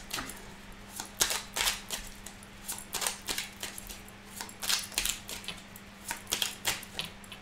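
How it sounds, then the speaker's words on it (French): Oracle cards being shuffled by hand, a run of crisp, papery riffles and flicks in quick irregular bursts, close and moderately loud with no talking. "je vais remélanger un petit peu les cartes."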